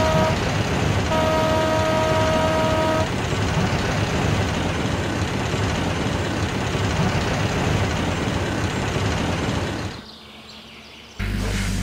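A steam train setting off rumbles steadily and loudly, with a short horn toot early on. The noise drops off abruptly near the end.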